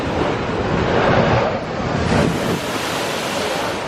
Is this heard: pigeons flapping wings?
no